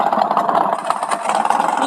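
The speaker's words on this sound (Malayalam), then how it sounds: "നമുക്ക് ബൈക്ക് ഓടിക്കുന്നു." A motorbike engine hums steadily while riding in the video game Party Craft, a continuous mid-pitched drone with a slight rattle and no talk.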